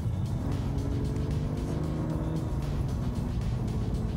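A BMW M2 engine idles with a dense, rumbling drone, holding a steady low roar with slight fluctuations while stationary and close.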